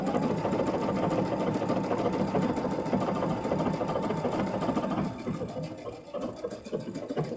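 A Baby Lock Solaris embroidery machine stitches steadily, its rapid needle clatter forming a fast, even mechanical rhythm with a whirring motor hum, close and continuous, briefly easing near the end before carrying on.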